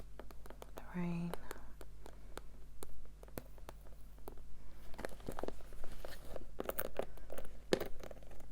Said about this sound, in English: So, I do like the tapping sounds